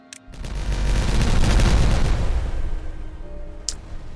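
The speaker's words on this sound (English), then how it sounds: "Should we have a little explosion?" Explosion in the city-building game Timberborn, a muffled booming rumble that swells quickly and trails off into a long rolling decay, with a short sharp click near the end.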